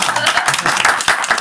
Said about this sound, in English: We're clapping for me.